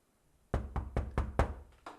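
Six sharp knocks on a door in quick, slightly uneven succession, close and fairly loud against a quiet background, with a brief gap before the last rap.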